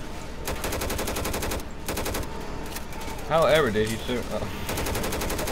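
Rapid automatic gunfire in the zombie shooter game Left 4 Dead 2, sounding as steady repeated bursts under a voice, with a louder, sharper burst of game noise near the middle.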